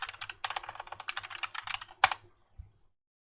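A computer keyboard is tapped in a quick burst of close, crisp keystrokes while a command is entered in AutoCAD, ending in one louder key press and a final soft click before silence.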